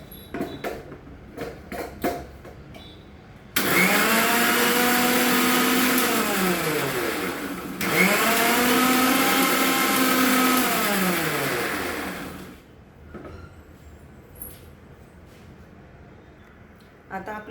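A mixer grinder blends green chutney in two loud whirring bursts of several seconds each, with a brief pause between them and light kitchen clatter before and after.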